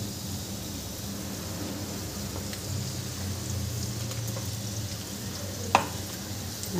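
Potatoes with crushed peanuts being stirred in a pan for fasting sabudana khichdi, a soft continuous scraping sizzle with a sharp clink of the spoon near the end.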